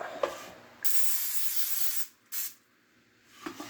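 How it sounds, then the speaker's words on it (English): Two short hissing bursts from an olive oil spray can into an air fryer, the first longer, with light clicks before and after, close and fairly quiet. "It says to spray some olive oil in there"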